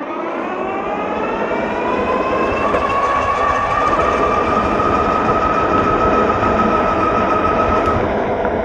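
Wired Cruiser electric bike converted to dual front and rear motors, accelerating with a rising, steady motor whine over rolling road noise, continuous and fairly close, no talking.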